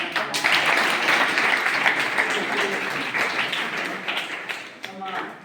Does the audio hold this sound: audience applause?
yes